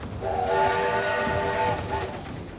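A railway train on the Canadian prairies sounds a long, steady multi-tone horn blast over a low rolling rumble, loud and fairly close, with no voices.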